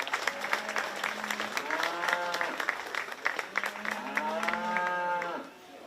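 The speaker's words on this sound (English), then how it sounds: "Let's go ahead and give these exhibitors a round of applause," Spectators in a county fair show ring applaud 4-H beef exhibitors, steady clapping mixed with loud, drawn-out moos from cattle repeating twice before the clapping tapers off.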